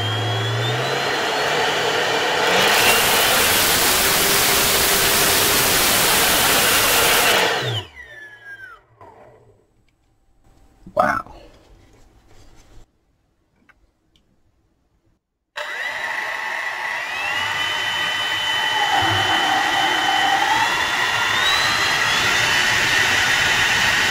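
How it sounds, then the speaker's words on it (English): A small high-output brushless DC motor on a 3-phase controller spins up to a loud, steady high-pitched whine, cuts out, then after a quiet stretch with a brief blip it whirs back up and runs again with a rising tone. "You'll see how it controls this little high output motor here."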